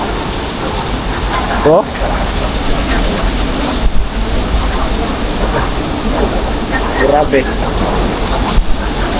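Floodwater rushes loudly and steadily along a road after Super Typhoon Uwan, a continuous broad roar close by, with someone speaking briefly over it.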